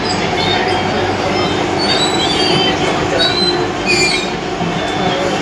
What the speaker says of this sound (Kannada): ನೋಡಿ ಮೆಟ್ರೋ ಹೆಂಗಿರುತ್ತೆ, ಫುಲ್ ಲಾಂಗ್.